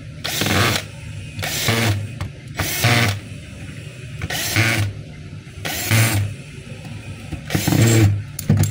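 A DeWalt hammer drill runs in short repeated bursts, about six, each a loud close whirring rattle with brief pauses between. There is no talking.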